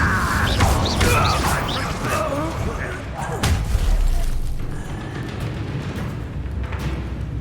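The Incendio fire spell cast in Hogwarts Legacy, a whooshing burst with booming, thudding impacts amid ongoing combat effects and game music, with voices shouting over the mix throughout.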